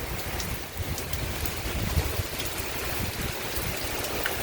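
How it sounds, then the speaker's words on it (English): Heavy rain pours during a severe thunderstorm in Virginia Beach, a dense, continuous hiss and wash of water with wind, loud and steady throughout. "it's coming down pretty good right now, the rain."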